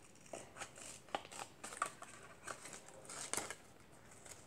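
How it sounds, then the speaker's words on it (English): Scissors snip through paper to cut out a printed character, a series of soft, scattered crisp snips and light paper rustles, close and quiet with no talking. "I'm gonna get my scissors and cut the character out."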